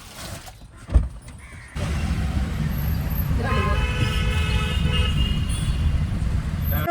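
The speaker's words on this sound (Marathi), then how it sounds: "ही आहे आमची कार." A car on the road with a sharp knock early on, then a constant engine and traffic rumble as a horn sounds in a sustained toot, close and fairly loud.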